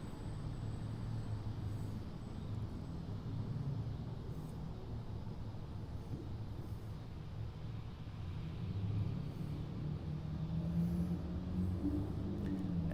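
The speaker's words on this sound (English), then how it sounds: "I hear something with a yellow light crank up over. Oh, it's an MOW truck rolling out." A railroad maintenance-of-way truck rolls out trackside as a faint, steady low rumble that swells slightly toward the end, heard from a distance with no voices.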